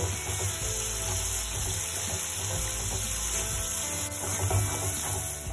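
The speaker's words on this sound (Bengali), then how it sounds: "এবার আমি ভালো করে সমস্ত মশলা কষিয়ে নেব।" Spices such as coriander powder and chilli powder sizzling steadily in hot oil in a pan while being sautéed for nimona, a continuous close frying hiss with faint stirring.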